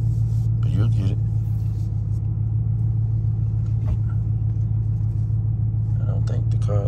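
A car engine rumbles steadily and loud throughout a driving lesson, a constant low drone with faint higher mechanical noise on top and no clear revving.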